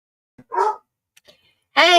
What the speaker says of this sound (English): apologies for Sammy barking and howling in the background